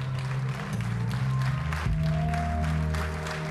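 Theatre audience applauding after a performance, dense clapping that carries on steadily with some low tonal sound underneath.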